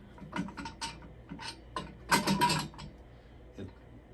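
Tank yoke screw being tightened during an M6000 installation, a string of close mechanical clicks and ratcheting scrapes in uneven bursts, with one louder grinding turn in the middle and quiet gaps between.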